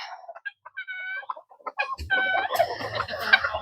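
Chickens cluck and squawk nearby on a farm by a pond, a few soft calls building into a louder, overlapping chorus.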